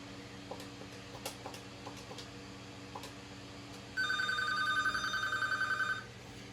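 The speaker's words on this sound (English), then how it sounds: "So, I'll give this phone a ring. You can hear what the ringer sounds like." A common landline telephone rings through its built-in ringer in a home room, one sustained electronic trill burst of about two seconds, close and clear after a few seconds of faint ticking and room hum.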